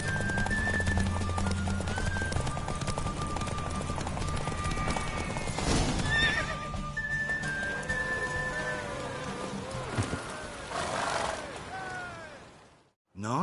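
A horse race in The Witcher 3 brings rhythmic, close hoofbeats that gallop steadily under other game sounds, with a brief neigh partway through before the clip cuts to near silence.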